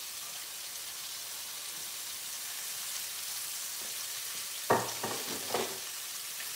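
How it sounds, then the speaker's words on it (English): Bacon and onion fry in olive oil with a steady close sizzle, and near the end come a few sharp clatters and stirring knocks. "I'm gonna throw some onion in with that bacon that's cooking up"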